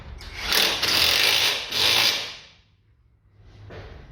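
Tightening the stabilizer link nut on a Peugeot front suspension with a power tool, heard as two loud, close, rattling bursts and then a softer, shorter one after a pause.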